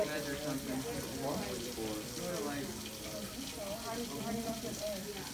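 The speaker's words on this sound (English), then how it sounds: "you can probably turn that water off" A lab tap runs steadily into a sink, a constant splashing hiss that sits in the background while people talk over it.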